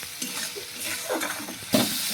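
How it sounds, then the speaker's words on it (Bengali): Spice paste of tomato, garlic and ginger being stir-fried in a pan, a close sizzle with scraping stirs and a louder burst near the end, no talk. "মশলাটা এখন ভালো করে আরও কষিয়ে নেব যতক্ষণ না রসুন আর আদার কাঁচা গন্ধ যায়।"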